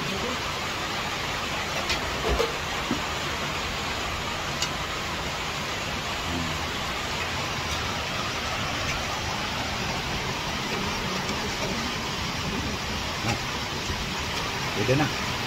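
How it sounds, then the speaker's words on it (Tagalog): Heavy rain pours steadily as a constant, dense hiss throughout, recorded near a home kitchen during soup cooking. "Lakas ang ulan."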